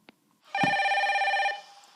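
A red telephone rings once in a steady electronic burst lasting about a second, loud and close, preceded by a faint click, with no talking.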